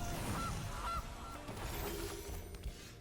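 A cartoonish goose honk from the Gilded Goose card in a Magic: The Gathering digital game, sounding twice in quick succession over busy game effects with a brief shattering crash.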